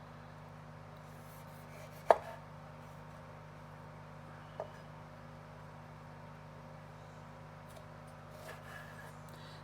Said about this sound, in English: make some thin cuts, like, thin slices right down through both halves.